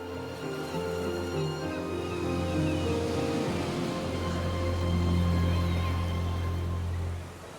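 Waves on Porthcurno Beach in Cornwall, a white-sand cove with turquoise water, with surf rolling and washing steadily against the shore, loud and continuous, with no voices.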